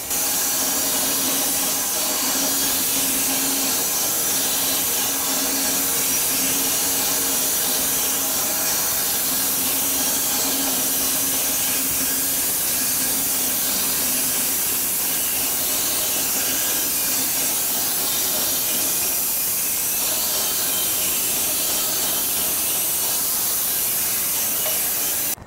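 A sawmill cuts slabs from a large crotchy white oak log, giving a steady loud hissing, whining roar of machinery that holds for the whole stretch with no talking.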